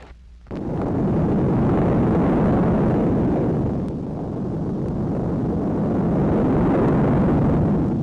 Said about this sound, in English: the roar that means a North American F-100 Super Saber has gone into action